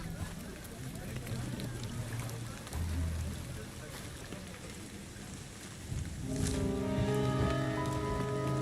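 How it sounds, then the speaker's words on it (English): Rain falling in the video game Indiana Jones and the Great Circle, a steady wash of rainfall pattering on surfaces and clothing, with a sustained musical tone swelling in toward the end. "Look at the rain, how it hitting his clothes."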